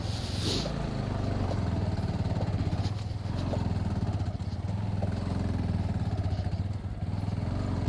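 A motorcycle engine drones steadily while riding an off-road dirt track, a faint, continuous rough mid-pitched hum with some clattering, and no clear talk over it.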